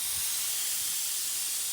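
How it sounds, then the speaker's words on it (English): Compressed air hisses out of a pressurized bottle through a car tire valve, a steady, broad, close hiss that runs unbroken throughout, with no talking over it. "We've depressurized that bottle."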